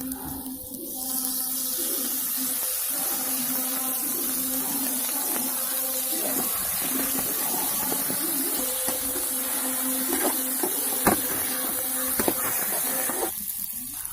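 Onions and rock salt sizzle in a pan for village-style crab gravy, a steady frying hiss running throughout with a few brief clinks and scrapes near the end.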